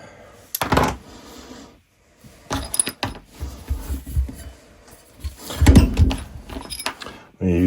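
Metal keys for a Hercules 20-volt cordless surface conditioning tool clink and jangle in short bursts, with brief handling thunks and quiet gaps between.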